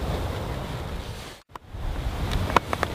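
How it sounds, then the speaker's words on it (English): Wind gusts past the microphone beside a river, a broad blustery rush that drops out for a moment before returning, with no talk. "Although it's still windy, the wind has calmed down a fair bit"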